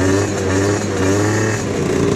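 A small tuned French two-stroke scooter engine runs loud and close, buzzing at high revs with a steady droning tone that shifts slightly near the end.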